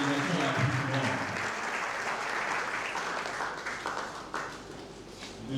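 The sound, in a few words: audience applause for the largest delegation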